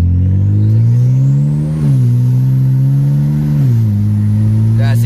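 BMW 335i turbo with a tune, accelerating hard in sport mode from inside the car: a rising engine drone broken by two quick, crisp upshifts, loud and close, with a faint whine above.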